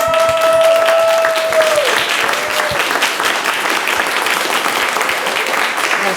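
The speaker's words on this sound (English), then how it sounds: "give a round of applause for our panelists tonight" Dense applause from an evening panel audience, steady and full throughout, with a brief sung or held tone over the clapping at the start.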